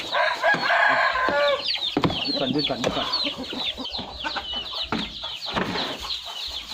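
Chickens cluck and squawk busily at close range during feeding with a bucket of homemade feed on a small farm, a rooster crowing amid the flock, while someone talks over the noise.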